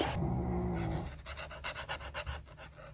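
Mickey the dog snoring in a quiet room, a rough rasping breath that gives way to a series of short rhythmic snorts and pants, close and fairly soft, with no talk.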